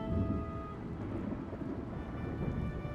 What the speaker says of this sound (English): Did you hear the thunder just now?